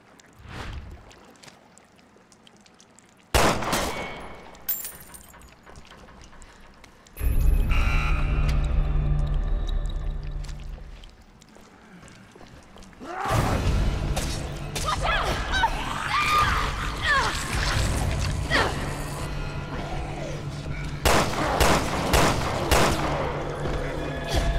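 Gunfire in Resident Evil Revelations 2 aimed at an object snagged out of reach: loud bursts of shots in several volleys separated by quieter game ambience, no talk.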